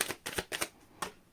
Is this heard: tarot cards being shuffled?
yes